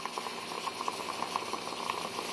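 Soft, steady bubbling and hissing with rapid little gurgling pops as water escapes from a stovetop coffee maker brewing Cuban coffee, close but fairly quiet.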